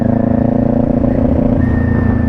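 A motorcycle engine being revved while rev matching, a steady close rumbling drone with rhythmic throbbing pulses and a mechanical clatter, holding fairly even without sharp peaks and with no talking.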